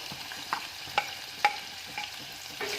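Chopped onion frying in a pan for a stir-fried toran, a quiet steady sizzle broken by several light spatula clinks and scrapes at roughly half-second intervals.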